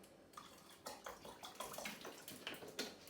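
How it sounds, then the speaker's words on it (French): Water being poured, about a litre, while making a baobab cocktail; splashy, irregular bursts of pouring and sloshing, moderately close and continuous, with no talking. "Donc, un litre d'eau."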